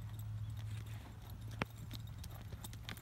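Hoofbeats of a horse being driven forward into a canter during training, a steady soft thudding rhythm close by with a faint low hum underneath.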